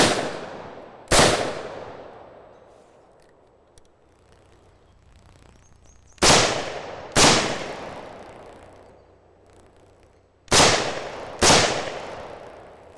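A self-loading rifle fires repeatedly until its magazine runs dry: six sharp, loud reports in three closely spaced pairs, each ringing off with a long decaying tail, with quiet gaps between them.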